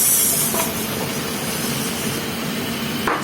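Beef and plenty of onions sizzling in a hot pan, a loud continuous frying hiss close to the microphone with a couple of brief knocks, no talking.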